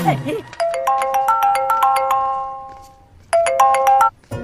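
A bright electronic ringtone chimes a repeating melodic phrase, pauses briefly, then starts again, loud and close, with a voice briefly at the start.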